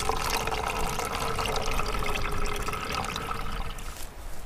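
Water pours steadily through a simple improvised emergency filter outdoors, a continuous splashing trickle that stays close and fairly even throughout, with no talking.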